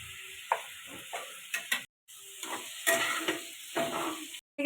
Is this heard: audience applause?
no